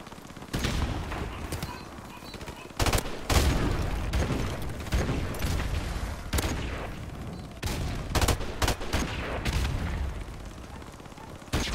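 Repeated bursts of M16 rifle fire from Call of Duty 4 Remastered gameplay, sharp loud cracks in irregular clusters over a busy game background.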